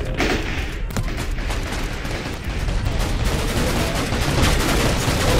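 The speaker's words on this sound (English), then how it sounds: "look at those explosions" Explosions and gunfire roar through a large Totally Accurate Battle Simulator battle with tanks, making a dense, loud, continuous barrage of booms and crackling blasts that swells toward the end.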